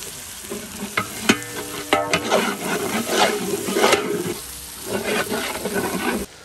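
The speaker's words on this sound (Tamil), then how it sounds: "இஞ்சி பூண்டு மல்லிப்பூ நல்லா வதங்கி வந்துருச்சு" Ginger, garlic and coriander sautéing in a pan while a veg jackfruit biryani is cooked in a village outdoor kitchen: a steady close sizzle with repeated scraping stirs of a spoon against the pan.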